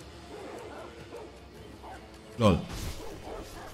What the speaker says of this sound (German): Spinnen diese Hunde oder was läuft mit denen gerade falsch?